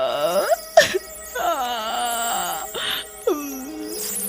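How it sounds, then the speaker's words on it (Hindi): Ghostly wailing and moaning cries in a haunted lift from a Hindi cartoon, a drawn-out eerie voice rising and falling over about four seconds, close and steady, with a couple of sharp vocal swells. "लिफ्ट में किसी के रोने की आवाज आने लगती है"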